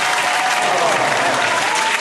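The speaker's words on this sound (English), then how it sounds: "round of applause and an awe?" Loud, dense applause from a group fills the whole moment, a continuous close roar of clapping with a few faint voices mixed in.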